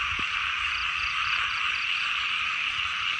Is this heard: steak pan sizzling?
no